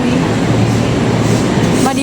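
The Madiun Jaya passenger train running, heard from inside as a loud, continuous rumble with a faint rattle, and a murmur of voices underneath.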